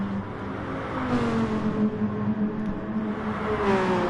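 Race car engines in Gran Turismo GT3 racing at Dragon Trail Seaside hum and whine continuously, with a steady tonal engine pitch slowly rising and falling, moderately loud and with no talk over it.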